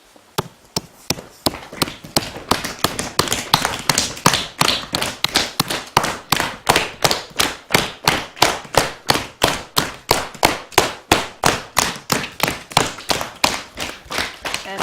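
Hands slap and tap against the body during a self-massage routine, a long run of sharp, evenly spaced close pats that hold a brisk steady rhythm throughout.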